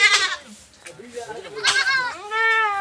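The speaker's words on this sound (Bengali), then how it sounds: "দেখো ছাগলগুলো দেখো এই ছাগলটার বাচ্চা হয়েছে" Goats bleating in a village pen, several close, wavering bleats including a long drawn-out call, with people talking over them.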